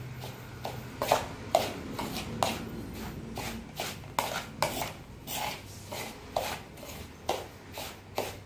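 Grated coconut being mixed with food colouring in a bowl, a spoon scraping and clinking against the dish in a loose repeating rhythm, close and moderately loud with no voices.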